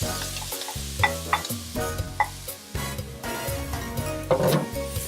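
Bacon, onions and finely diced celery fry on high heat in a pot, a steady close sizzle broken by repeated scraping and knocking strokes of a stirring utensil against the pot.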